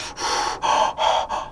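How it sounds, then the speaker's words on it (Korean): A person inhales through nose and mouth together in a short series of four loud, close breaths, each a quick airy rush with brief gaps between. "우리가 숨은 코로 쉬고 입으로도 다 쉬어요."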